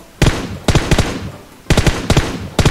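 PUBG Mobile gunfire rings out in sharp, loud bursts of two to three rapid shots, separated by short pauses, close and punchy with no talk over it.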